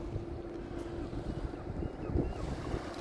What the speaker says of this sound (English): I really wish it wasn't windy.